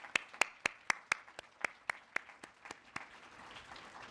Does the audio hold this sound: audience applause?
yes